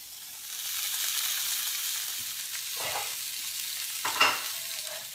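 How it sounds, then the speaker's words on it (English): Fish sizzles steadily in a hot pan, a bright continuous frying hiss, close and moderately loud, broken by a few brief clatters of utensils or the pan being moved. "when you're putting in fish or any type of food into a hot pan, always away from you."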